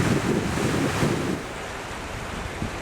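Water gushes out from under a culvert in a highland stream, a steady broadband rush heard close up, stronger at first and easing slightly, with some wind noise on the microphone.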